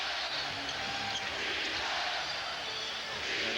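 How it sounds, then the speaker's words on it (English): Crowd in a basketball arena during a 2001 Eastern Conference Finals playoff game, a dense sustained roar of many voices chanting at a steady level, close and continuous with no clear break. "the crowd's still very much into it, still chanting defense"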